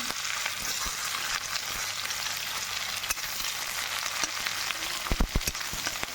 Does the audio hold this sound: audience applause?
no